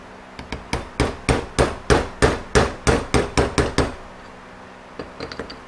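Metal hammer driving a bushing driver into a 68RFE transmission case during a rebuild: about a dozen sharp, evenly paced strikes close up, followed by a brief pause and a few lighter taps.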